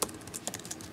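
Rapid typing on a computer keyboard, a quick close run of crisp key clicks in an even rhythm with no voices.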